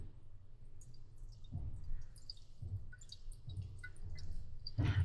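An Aeropress coffee maker being plunged: soft faint squishing and dripping with a few muffled thuds and small clinks, quiet and close, rising to a louder gurgle at the end, with no talking.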